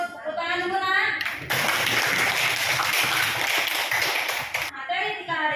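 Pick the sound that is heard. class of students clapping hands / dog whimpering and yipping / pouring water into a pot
class of students clapping hands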